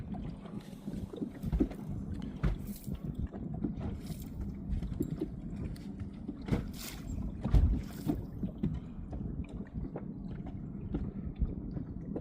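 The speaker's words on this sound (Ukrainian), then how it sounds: "Ганяють катера, піднімають волну." Motorboats racing on the sea and stirring up waves, heard from a fishing spot as a distant low engine drone with wind and lapping water, continuous and fairly faint.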